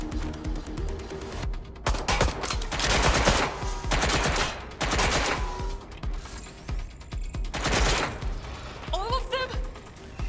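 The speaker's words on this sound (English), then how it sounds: "They're shooting at us!" Gunfire in the video game Watch Dogs Legion: several bursts of automatic shots and scattered single cracks come in loud clusters over about ten seconds, mixed with game effects and shouting voices.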